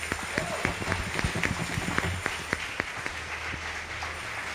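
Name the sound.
applause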